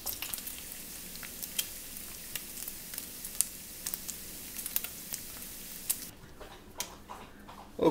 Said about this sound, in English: you might be able to hear it crackling over here on the stove. I'm cooking a little bacon to go with these pancakes